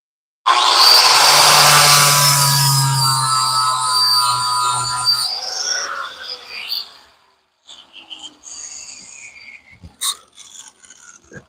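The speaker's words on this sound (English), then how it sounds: "Just grab the grinder and smooth me out a nice clean spot for my ground to sit." An angle grinder cleans rust and mill scale off a steel spot for a welder ground clamp, a loud, steady whining grind for about five seconds that winds down, followed by quieter scraping, clicks and handling noises.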